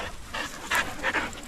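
Dogs panting during a group training class, quick steady breaths close by in bursts, with no talk over them.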